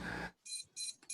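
Electronic buzzer beeping in three short, bright, evenly spaced tones, fairly close, following a brief burst of noise at the start.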